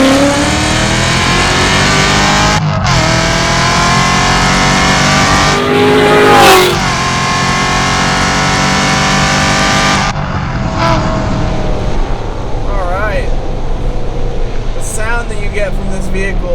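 An 850 hp Hennessey C7 Corvette Z06 engine roars steadily at high revs on a track, with sharp downshifts and a brief louder surge, close and continuous for the whole stretch.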